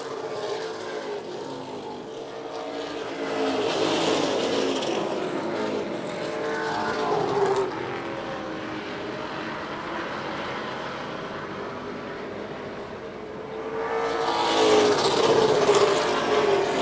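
Pro stock race cars roar around an oval track during a 100-lap open invitational, engines swelling as packs pass nearby, easing off, then building again near the end.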